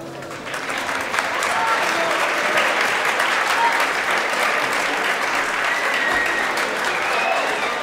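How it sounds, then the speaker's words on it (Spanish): An audience at a university campus festival gala in Alcoi applauds loudly and steadily, a dense wash of clapping that swells quickly and holds for several seconds. "damos paso con un fuerte aplauso a nuestro director de la escuela"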